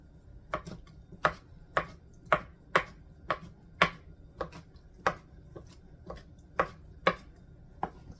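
Red onions and mushrooms chopped into smaller pieces with a knife on a board, a steady series of about fifteen crisp, evenly spaced chops, close and clear with no talking.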